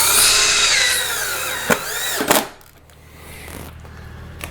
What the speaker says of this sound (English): I use a gold-plated deck screw to screw these in.